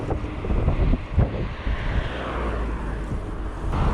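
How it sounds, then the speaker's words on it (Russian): Strong headwind buffeting the microphone while cycling along a paved highway, a loud continuous roar with low rumbling gusts that rise and fall, with no talking. "Капец, ветер."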